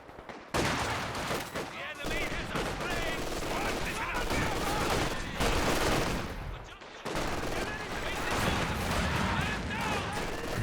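Sustained gunfire and heavy mortar blasts from a World War II real-time strategy battle in Company of Heroes 2, loud and dense throughout with overlapping volleys, a brief lull near the middle, then renewed firing.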